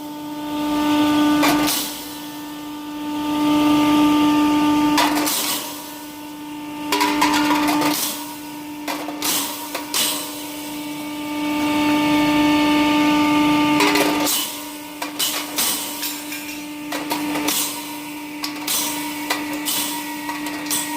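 A pulverizer flour mill fitted with a number 6 sieve grinds hard turmeric pieces, a loud continuous mechanical whine and roar with rattling bursts as chunks are fed in, running on steadily.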